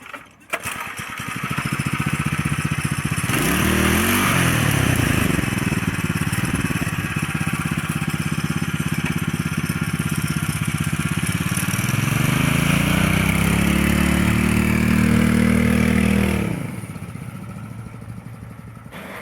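An 8HP scooter engine revs hard and loud on a test drive, its pitch rising and falling through sustained throttle before dropping back to a lower idle, with people talking over it.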